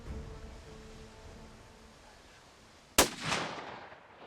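A single loud rifle shot during a fallow deer hunt in Croatia cracks out after quiet outdoor ambience, then echoes and rolls away across the landscape.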